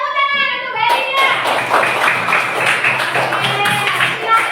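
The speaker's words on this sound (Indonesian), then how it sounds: "Tepuk tangan untuk Mbak Elina." Children in a classroom clap together for a classmate, with steady, dense clapping at close range that starts after a brief pause and continues under some chatter.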